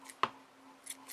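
Scissors snip a single yarn pom-pom: one sharp, close cut, then a couple of faint snips.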